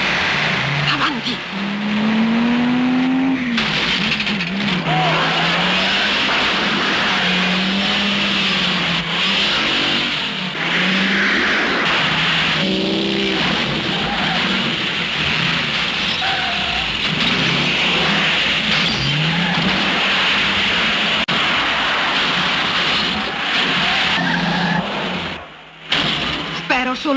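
A car engine revs hard and roars continuously through a car chase in the 1969 James Bond film On Her Majesty's Secret Service, with voices speaking over it throughout.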